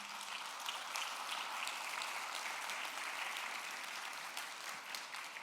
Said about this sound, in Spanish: yo quiero darle un aplauso a cada uno de los pastores